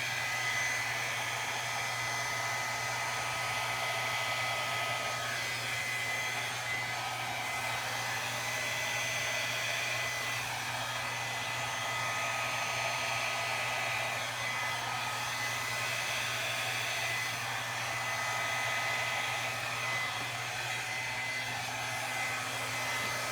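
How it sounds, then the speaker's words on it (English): A hair dryer on its low setting whirs steadily at a constant, fairly soft pitch, running alone without interruption for the whole stretch. "I'm going to use my Flower Blow Dryer by Drew Barrymore"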